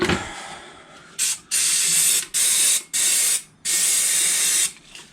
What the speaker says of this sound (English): spray it all off with brake cleaner